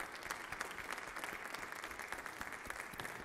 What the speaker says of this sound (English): Round of applause to our 7th graders.